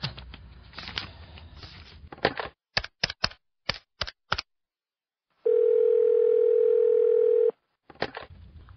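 An old telephone's rotary dial clicks through several quick bursts of pulses, then a steady loud dial tone holds for about two seconds before more clicking dialing follows.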